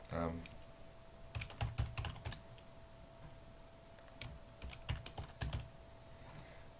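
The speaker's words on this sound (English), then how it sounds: "All we need to do is type in the caption that we want." Keys clatter on a computer keyboard as a short photo caption is typed, in uneven bursts of clicks with pauses between them, close and moderately quiet over a steady faint hum.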